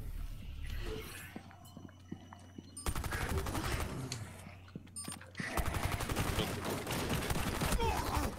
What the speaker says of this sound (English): I just realized they shoot.